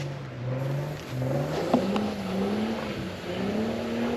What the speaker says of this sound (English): Somebody's bouncing that rev limiter.